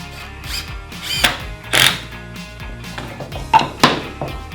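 A power drill drives self-tapping wood screws into a wooden tool caddy in several short, loud whirring bursts with thunks between.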